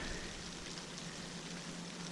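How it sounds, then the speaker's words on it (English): Rain falls outdoors during a metal-detecting hunt at an old structure site, a steady soft hiss of drops on surfaces, fairly faint and even throughout, with no talking. "Well guys, it's raining."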